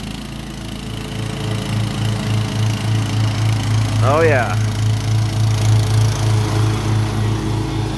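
A Cub Cadet XT1 Enduro garden tractor mows grass in a field, its engine drone steady and rhythmic with a slight pulsing, moderately near; a person speaks briefly over it.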